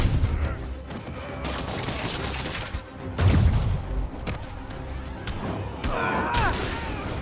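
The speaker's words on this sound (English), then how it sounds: "About to get shot from behind." Gunfire from the Marvel's Spider-Man PS4 game: repeated loud shots and bursts across the whole stretch, mixed with crashes and impacts, with a heavy boom near the middle.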